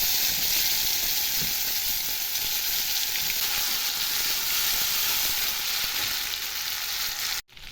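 Ginger and dried red chili paste sizzling in hot oil, a loud, even, close crackling hiss that holds steady throughout before a brief cut at the end.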